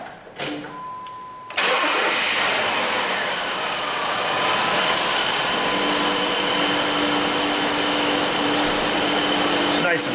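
A Jeep Liberty engine catches after a brief crank and settles into a steady, smooth idle, running loud and close with a constant hum for several seconds.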